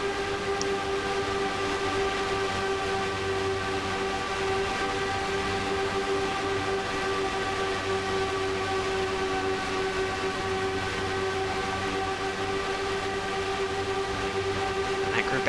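Trailing IndyCar engines in the NR2003 racing game, a steady droning whine of engines sitting behind the player, constant and moderately loud throughout with no talk.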